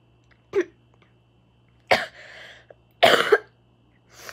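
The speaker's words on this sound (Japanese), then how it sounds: "もうなんか咳が本当に" A young woman with a cold coughs several times in separate harsh bursts, one throat-clearing sound trailing after, close to the microphone in an otherwise quiet room with a faint steady hum.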